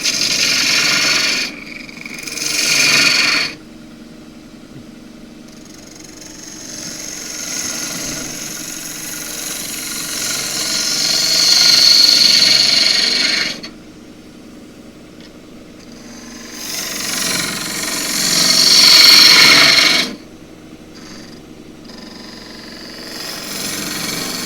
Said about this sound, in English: I have here a 3/8 spindle gouge,